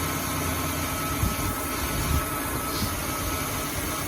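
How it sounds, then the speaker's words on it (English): A 2005 Ford Taurus engine idles with a steady low rumble and a few slight surges and bumps, heard up close and alone. "now it's settled down, so it's idling real good"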